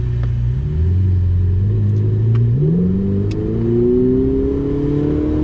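A Ferrari driving on a track in Miami, the engine heard from inside the car, a loud steady drone that climbs smoothly in pitch as it accelerates and shifts through gears.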